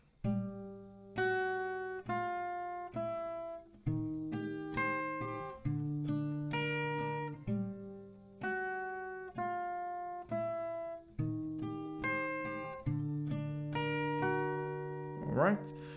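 Acoustic guitar plays a melody line over open strings, two rounds of a repeating plucked phrase with steady picked notes ringing together, clear and close with no talking.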